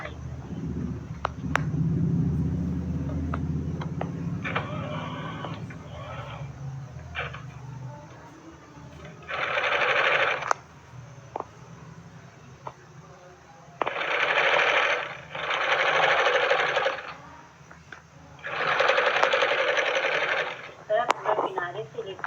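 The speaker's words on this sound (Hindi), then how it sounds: "इस तरह हमको रख के सेंटर से लेके पूरा नीचे बॉटम तक की सिलाई करनी है।" Salwar fabric is stitched down a seam from centre to bottom on a sewing machine in short bursts of fast whirring, separated by pauses while someone talks over the work.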